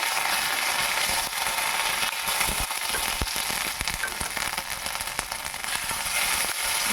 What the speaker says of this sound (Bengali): দিয়ে মশলাটাকে ভালো করে ভেজে নেব